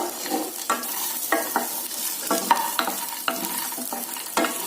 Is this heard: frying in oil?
yes